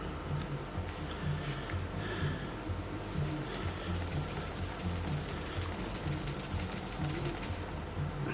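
A chemical-impregnated cloth rubs steadily against a Crosman E9A air rifle to strip its black paint, giving a continuous close scraping and rasping for several seconds with no talk.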